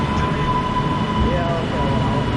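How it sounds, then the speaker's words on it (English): Northern passenger train pulling into Preston station, a steady loud rumble with a high whine and squealing wheel tones, continuous throughout with no lull. "In comes the 1420 Northern service to Bolton."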